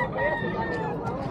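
Chickens at a poultry market in Bocaue, clucking and crowing amid a busy, crowded background murmur, fairly loud and close throughout a short stretch.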